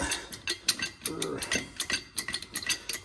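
Sealy jacks click and ratchet as they take up the weight of a Ford 8100 tractor, giving close, quick metallic pawl clicks in an uneven rhythm, with a brief strained voice partway through.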